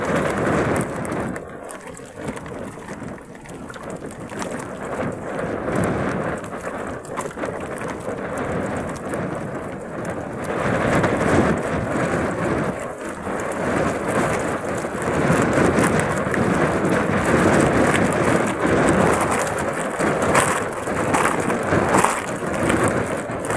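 A rainstorm pours steadily with gusting wind against the microphone and occasional low thunder rumbles, a dense, loud wash that swells and holds for over twenty seconds with no talking.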